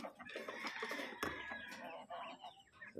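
Chickens belonging to a sibling's flock cluck and chatter continuously at close range, with a sharper squawk near the middle and birds calling over one another throughout.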